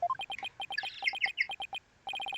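A short bird-call phone ringtone from the game Ace Attorney: Dual Destinies plays a clean, rhythmic pattern of chirping tweets in quick pairs, with a brief twittering flourish in the middle and a short pause before the chirps resume.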